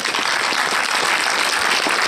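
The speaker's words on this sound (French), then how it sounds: "l'équipe du film, on va les applaudir très fort" An audience at a film premiere of Médecin de campagne applauds the film crew, including François Cluzet, with dense, steady clapping that stays loud and even from start to finish with no voices on top.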